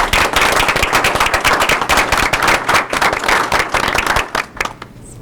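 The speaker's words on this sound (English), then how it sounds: "One last little round of applause." A school committee meeting audience gives a loud round of applause, a dense wash of many hands clapping steadily for about five seconds before tapering off near the end.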